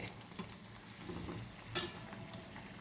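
Chana dal vadas deep-frying in hot oil, a soft steady bubbling sizzle broken by a brief scrape as they are turned, with one sharper clink near the middle.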